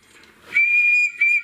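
A man imitates someone strolling along whistling, a loud, clear two-part whistled note, the first held about half a second and a shorter one after a brief break, heard alone.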